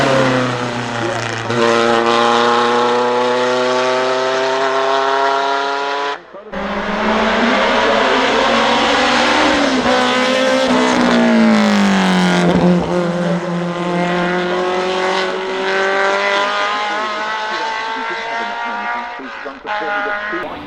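Vintage Bugatti Type 35B race car driving at the Goodwood Festival of Speed on a damp surface, its engine revving and rising in pitch through gear changes, with a commentator talking over the loud engine.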